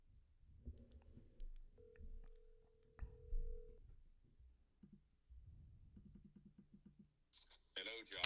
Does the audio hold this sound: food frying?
no